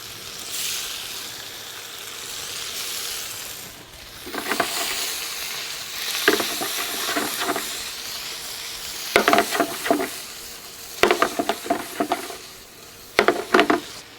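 Spring onion whites and chopped kimchi fry in a pan for prawn fried rice, starting as a soft, even sizzle. Bursts of stirring and scraping follow, growing livelier and closer toward the end. Nobody speaks.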